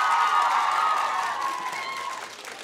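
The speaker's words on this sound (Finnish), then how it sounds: "Isot aplodit Annalle!" Audience in a Finnish dance-competition TV studio cheering and applauding for a contestant named Anna, a steady roar of voices and clapping that slowly fades, with a sustained musical tone ringing over it.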